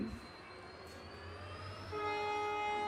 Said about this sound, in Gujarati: પ્લેટફોર્મ નંબર એક ભટિંડા રેલવે સ્ટેશન સામે ઊભી છે આપણી ટ્રેન